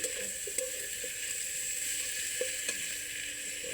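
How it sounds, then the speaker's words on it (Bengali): Potatoes frying in a pan give off a steady, even sizzle with a few soft clinks of stirring, close and moderately quiet, with no talking. "এবার আলু দেবো।"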